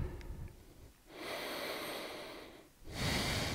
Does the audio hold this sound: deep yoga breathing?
yes